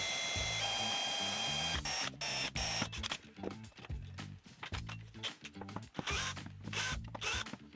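Aluminium camera slider rails being screwed together with 3D printed connectors, heard as close, busy mechanical clicking and ratcheting with scraping, uneven bursts and short pauses.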